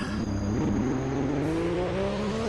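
A car engine in the Roblox game Midnight Racing revs high and steadily climbs in pitch as it accelerates, a loud, continuous drone throughout.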